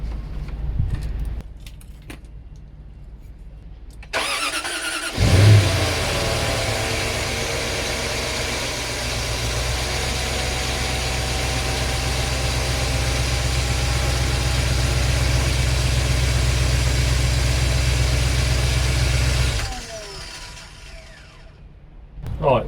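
A 2003 Range Rover L322 with the 4.4 engine, showing a stop-engine oil pressure warning, cranks and fires after an oil top-up, then settles into a loud, steady idle for about fifteen seconds before shutting off.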